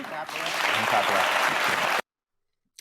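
Studio audience on a daytime talk show bursting into applause, a dense two-second wave of clapping that cuts off abruptly into silence.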